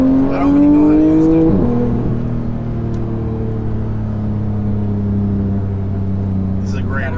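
Porsche GT3 with PDK Sport engaged, the engine revving hard then dropping sharply at a gear shift before settling into a steady droning pull, loud and close inside the cabin.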